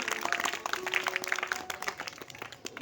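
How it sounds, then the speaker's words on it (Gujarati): People clap at a school Republic Day celebration, a patter of scattered handclaps from a modest audience, fairly close and thinning out toward the end. "તાળીઓથી વધાવશું આપણે બધા"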